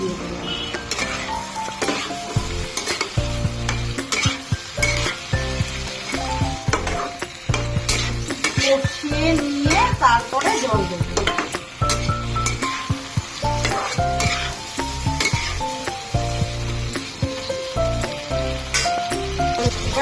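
Cauliflower and fried potatoes stirred in a sizzling pan for a tilapia curry, with a steady frying hiss broken by repeated rhythmic scrapes and clinks of a spoon against the pan.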